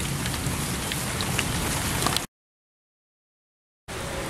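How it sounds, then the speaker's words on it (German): Storm rain pelts a camera lens during a severe thunderstorm with gusts in Kerken, a dense steady patter and hiss that cuts out abruptly for over a second before resuming, with no voices. "da steht der Regen direkt drauf"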